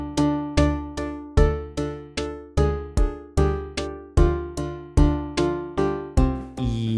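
Megalovania played too slowly by hopper-fed Minecraft jukeboxes: a sequence of evenly spaced, plucked synthetic notes, each decaying before the next, about a dozen in steady rhythm, loud and alone.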